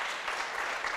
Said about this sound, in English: Let's clap for my panelists, ladies and gentlemen.